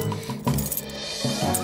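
Keys clink against a magnet in an animated children's firefighter cartoon, with a few light metallic chinks and rattles over a soft background tone, close and brief.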